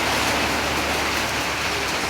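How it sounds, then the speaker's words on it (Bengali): Heavy rain pours down steadily on a village under tin roofing, a dense and constant hiss that is loud and close, with no voices. "এই যে জোরে আইছে বৃষ্টি"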